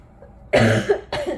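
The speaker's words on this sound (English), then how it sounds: "Sorry about the coughing." Two harsh, close coughs in quick succession from someone recovering from a cold, the first longer and heavier than the second.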